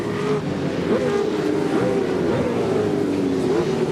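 Holden Racing Team Commodore V8 race car engine roaring loud and steady at high revs, with rising and falling gear-change sweeps as it drives past close by.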